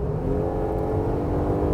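A 2021 Jeep Gladiator Rubicon with a 3.6 litre engine accelerating on the road, heard from inside as a loud, steady rising engine drone and whir with no talking.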